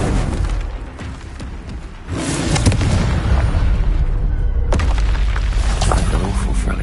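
A Confringo blasting spell explodes in Hogwarts Legacy, a loud boom that swells around two seconds in and holds as a dense, roaring blast, with a sharp burst near five seconds.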